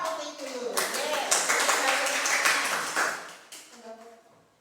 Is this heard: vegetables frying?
no